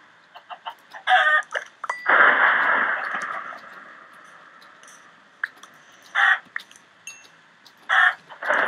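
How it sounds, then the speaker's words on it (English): Chickens in Minecraft with the Mystcraft mod cluck and squawk in bursts, loud and close, with a longer drawn-out call; synthetic, game-like poultry sounds with no talking. "Chickens!"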